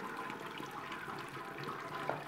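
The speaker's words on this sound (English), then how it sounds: "And now I start my sparge using the sparge water I heated in another vessel." Heated sparge water poured over a grain mash in a Grainfather home-brewing system, a steady continuous splashing and trickling of liquid, close and moderately loud, with no talking.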